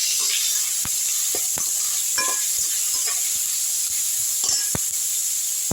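Onions and tomatoes fry in a pan with a constant high sizzle, while scattered scrapes and taps from stirring come through at irregular intervals; no one speaks.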